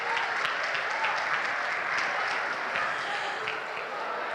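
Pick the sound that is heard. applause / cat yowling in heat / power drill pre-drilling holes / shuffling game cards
applause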